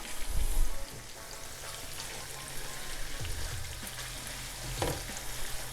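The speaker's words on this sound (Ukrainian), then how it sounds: "Ще трішки обсмажуємо." Chicken liver for pâté fries in a pan with a steady, close crackling sizzle, a heavier thump near the start and occasional stirring knocks.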